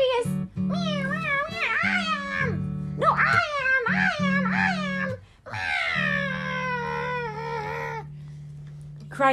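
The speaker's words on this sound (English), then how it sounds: "Cried hundreds and thousands and millions and billions and trillions of voices, for each cat thought itself the prettiest" Several meowing, crying cat voices rise and fall in long wavering calls one after another over a steady low drone.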